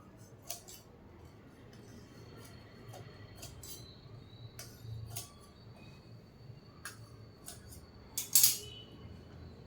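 Scissors cut fabric for a long gown in soft, intermittent snips against a quiet room hum, with a sharper, louder cut near the end.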